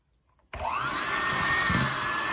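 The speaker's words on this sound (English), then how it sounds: "Then we're going to use our hand mixer to mix them up and make them smooth." Hand mixer starting abruptly and whirring steadily while beating mashed sweet potato pie filling, a loud continuous motor drone with a slight strain in pitch as the beaters work the dense mixture.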